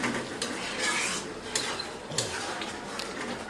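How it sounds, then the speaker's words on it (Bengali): Potatoes are stirred in a cooking pan, with repeated scraping and clinking of a utensil against metal over a faint sizzle, close by and with no talking. "তুলে নেওয়ার পর আমি আলুটাকে আবার নেড়ে চেড়ে দিলাম।"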